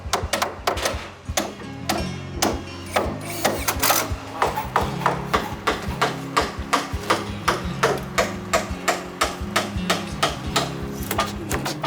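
Hammer nailing a fascia board receiver along a roof's perimeter during house framing, a steady run of sharp, close blows in quick rhythmic bursts over a low background hum, with no talk.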